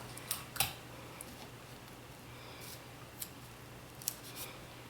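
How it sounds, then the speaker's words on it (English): Scissors trim extra paper from a Kwik Sew 3871 sleeveless midi dress sewing pattern, giving several quiet, sharp snips spaced irregularly over a faint room hum. "You can trim off the extra paper on the back after a while."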